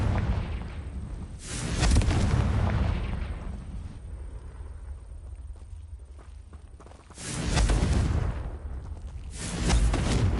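Confringo fire-spell blasts in the Hogwarts Legacy video game: three loud, broadband explosive bursts spaced several seconds apart, each with a rumbling tail over a steady low background of combat ambience.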